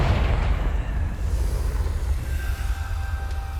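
A Confringo blasting spell explodes in Hogwarts Legacy, one loud booming blast at the start that rolls off into a low rumbling tail with a faint ringing tone.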